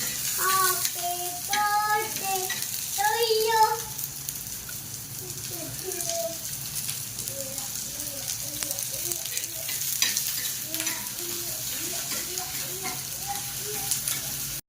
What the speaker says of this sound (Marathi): आता कांदा परते ती. कांदा परतायला लागली.